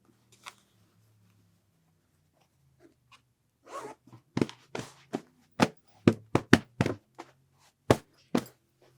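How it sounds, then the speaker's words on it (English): An invisible zipper is drawn closed on an 18 by 18 knife-edge pillow cover, heard close up as a series of short sharp zipping pulls in quick succession after a few soft handling sounds. "And zip it up."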